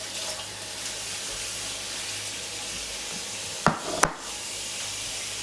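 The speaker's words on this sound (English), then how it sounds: "Now I have to wash the tray because there is literally food scattered all over it" Tap water runs steadily into a sink while a dirty, food-splattered tray from making a chicken and bacon omelette is washed; a soft continuous hiss with two sharp knocks near the end.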